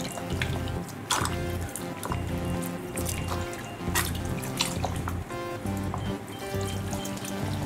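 Warm water runs and splashes steadily while a stylist gives a mid-process rinse during a strong perm on a black-haired bob at a salon, with a basin filled with hot water, dripping and trickling continuously at close range.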